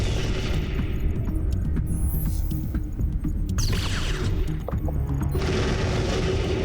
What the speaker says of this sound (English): Pirates are dug in and we're doing preemptive bombing.